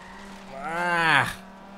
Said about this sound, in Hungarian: Eddig nagyon nem csúsztunk ki, talán ez volt a legnagyobb eddig, nem?